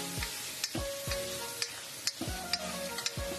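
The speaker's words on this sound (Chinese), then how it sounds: "下入花菜，先给它翻炒均匀" Cauliflower stir-fried in a wok, with a continuous bright sizzle and repeated spatula scrapes and clanks against the metal at a brisk, fairly regular pace.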